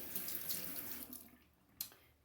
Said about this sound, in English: I'm gonna put a little bit more water there